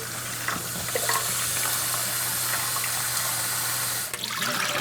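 Warm water runs steadily into a tube feeding container, a continuous hiss and splash of filling with a brief dip near the end and no talking.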